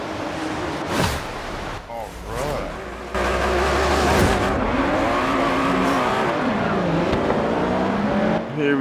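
Supercar engines roar and rev in a Forza Horizon 3 Hot Wheels championship race, loud and continuous with shifting pitch and tire noise, under steady talk.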